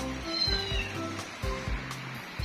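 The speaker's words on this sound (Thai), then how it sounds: "แมวน้อยของเราที่ร้องเนี่ยไม่ใช่อะไรนะคะที่อยากออกจากกรงค่ะ" A small kitten shut in a cage meows repeatedly, a run of short plaintive cries in a regular rhythm, close but fairly soft over faint background noise.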